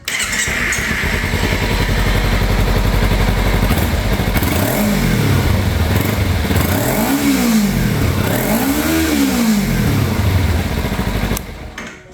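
A Kawasaki Ninja 300 motorcycle, fitted with a replacement throttle body, idles loudly and close, then its engine revs up and falls back in several rising and falling sweeps before cutting off at the end.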